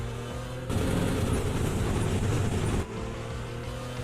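A low, rough engine-braking rumble swells suddenly when the accelerator is released and holds for a couple of seconds, then drops back to a steadier idle drone, heard from inside a car.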